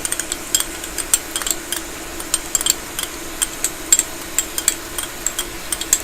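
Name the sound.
ground beef and garlic stirred in a hot pot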